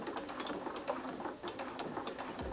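Bernina B480 sewing machine running a straight stitch through layers of fabric, a steady rapid mechanical ticking and whirring that continues close by throughout, with no talk.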